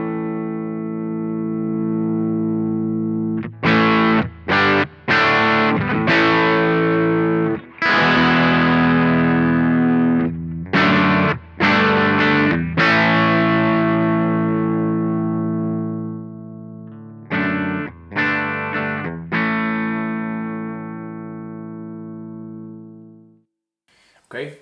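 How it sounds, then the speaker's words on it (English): Electric guitar chords strummed through a Boss GT-1 multi-effects unit as an expression pedal raises the gain, each chord ringing with growing distortion, repeated strums separated by brief gaps, loud and alone before fading out. "if I strum a chord right now and push the pedal forward, you will see the gain increase"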